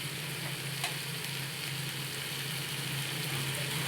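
Pumpkin, potato and boiled chickpeas with turmeric, salt and a little sugar sautéing in a pan, a steady low sizzle with a faint stirring tap or two and no voices.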